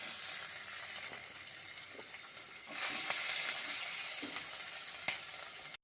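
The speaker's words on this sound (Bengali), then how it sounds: "এখন আমি আঁচটাকে মিডিয়ামে দিয়ে পেঁয়াজটা আর ভালো মতো করে একটু ভাজা ভাজা করে নেব।" Chopped onions frying in oil over medium heat with dry red chilli and five-spice tempering: a steady, fairly quiet sizzle throughout that swells a little midway, with faint scrapes and one small clink near the end.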